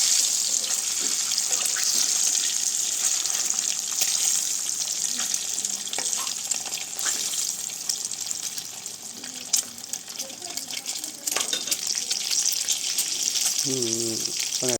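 Eggs frying with turmeric in a pan for a village-style curry: a steady, bright sizzle with stirring scrapes throughout, fairly close, with a brief voice near the end.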